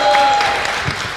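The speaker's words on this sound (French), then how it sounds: "on peut les applaudir" Short burst of audience applause for game contestants, a dense spatter of clapping that fades slightly by the end.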